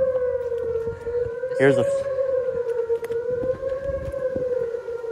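A Thunderbolt civil defense siren wails steadily in the distance, its sustained rising-and-falling tone faint but continuous, while a person briefly talks nearby.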